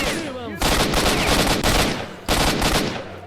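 Heavy machine gun fire in the video game S.T.A.L.K.E.R.: Shadow of Chernobyl: loud sustained bursts of rapid shots with a short pause between them and a faint rising tone at the start.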